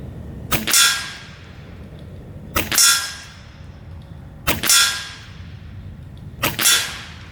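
Regulated JTS Airacuda Max PRS air rifle in a chassis stock fires four quick shots, each a sharp crack followed by a ringing metallic clang from the struck target, spaced about two seconds apart.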